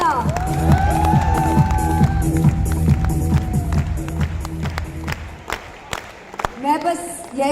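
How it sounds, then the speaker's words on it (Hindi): A packed audience of around 8000 at Tyagraj Stadium claps and cheers, a broad crowd roar with scattered claps under tonal music and voices that gives way to sparser clapping. "सबके लिए जोरदार तालियां"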